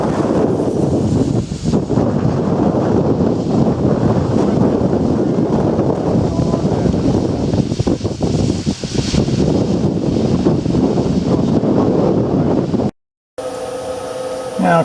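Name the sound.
wind outdoors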